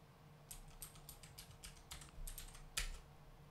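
Password being typed on a computer keyboard while setting up an Ubuntu cloud server: a quick run of light key clicks in irregular bursts, close and quiet, ending in one sharper keystroke, with no talking.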